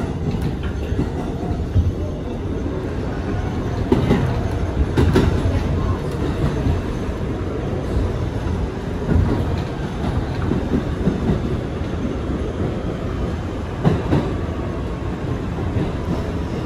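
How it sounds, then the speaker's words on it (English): A 2022 Kawasaki R211A shuttle train bound for Rockaway Park runs steadily with a continuous low rumble, rhythmic wheel clatter and a few sharp clanks, loud and close from inside the car, with no talk. "This is a Rockaway Park, Beach 116th Street bound shuttle train."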